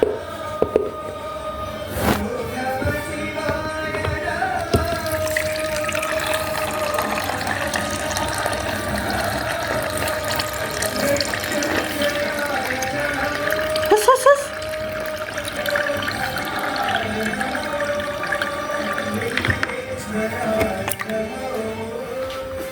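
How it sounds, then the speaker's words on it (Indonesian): Freshly harvested jumbo star fruit is washed under a running tap: water pours continuously, mixed with light clattering and handling noises, with occasional talk in the background. "Kita buat rujak, dicuci dulu ya."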